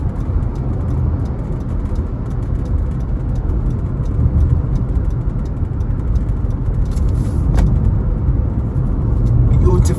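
Steady road noise and engine rumble of a car cruising along Mandela Highway in Jamaica, a continuous loud drone from inside the vehicle with no talk.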